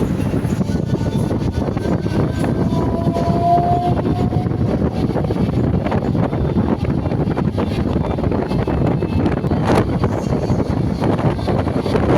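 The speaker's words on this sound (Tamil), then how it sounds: "இந்த லோக்கல் இஎம்யூ ட்ரெயினில் நம்ம ஆவடி வரையும் ட்ராவல் பண்ணிட்டு இருக்கோம்" Local EMU electric train running steadily between suburban stations, a continuous loud rumble and rattle of carriages with wind buffeting, heard from inside throughout.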